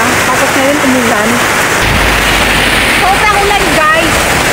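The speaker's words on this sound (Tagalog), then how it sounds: "Hindi ko talaga inasahan na biglang lumakas ang ulan." Heavy rain pours suddenly at a beach resort in Marabut, Western Samar, a steady loud wash of water that runs through the whole stretch while a person speaks over it.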